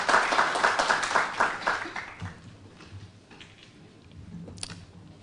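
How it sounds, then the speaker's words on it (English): An audience at the EUROSFAT 2024 conference debate on elections gives a round of applause that is brisk and full for about two seconds, then quickly tapers into scattered claps and room noise. "A big round of applause."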